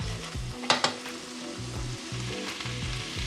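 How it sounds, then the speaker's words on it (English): Diced onion sizzles in a pan while a wooden spatula stirs it, a steady close frying hiss with scraping stir strokes and a couple of sharp knocks. "We're gonna take our wooden spatula and just move everything around"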